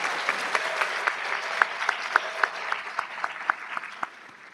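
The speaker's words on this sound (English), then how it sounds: "If we can give Che Boysaw a big round of applause for his work tonight." Audience at a community college honor society induction and student awards ceremony claps in a steady round of applause, with sharp individual claps standing out, fading toward the end.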